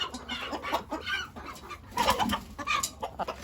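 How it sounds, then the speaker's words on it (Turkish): Several roosters scuffle and squawk among a backyard flock of laying hens, sharp agitated clucks and cries bursting repeatedly over a restless rural background, with no talking. "Bak horozlar kavga ediyor."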